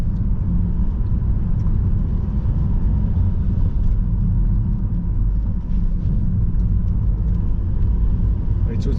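A car rolls slowly and gently along a pothole-filled valley road, giving a steady low engine and road rumble that stays constant and close throughout, with no distinct bumps standing out.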